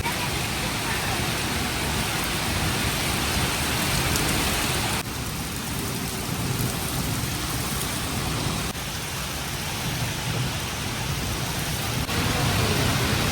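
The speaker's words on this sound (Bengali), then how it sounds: "এই জুম বৃষ্টি নেমে গেছে।" Heavy rain pours down during a Kalbaishakhi storm in rural Bangladesh, a dense, loud, steady roar of rain on surfaces that holds for the whole stretch with only slight dips in intensity.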